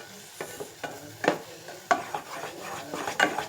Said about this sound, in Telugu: కలుపుకుంటూ ఉండాలి